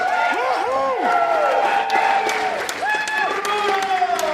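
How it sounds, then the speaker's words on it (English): Audience claps for a costume contestant at a monster-movie costume contest, a continuous wash of applause with voices and whoops rising over it throughout. "And give him a round of applause."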